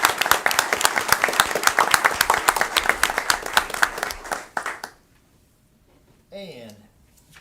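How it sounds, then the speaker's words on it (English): An indoor council meeting audience applauding the high school golf team, a dense burst of many hands clapping for about four seconds that fades out, followed by brief talk. "Give them a round of applause."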